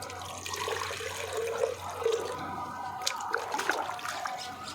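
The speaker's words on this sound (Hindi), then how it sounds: "देखिए इसमें भी मैंने पानी डाल दिया तो ये लेवल डुबा रहा" Water is poured into a bathroom floor trap, splashing and trickling into the drain with uneven gurgles and rising, then thinning flow, fairly close and with no speech over it.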